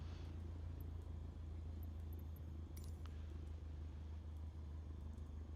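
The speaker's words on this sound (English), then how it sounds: "So I'm pulling it all the way out, just let it idle." A small aircraft engine idling at low RPM in Microsoft Flight Simulator 2020, a steady low droning hum held evenly throughout with faint clicks and ticks on top.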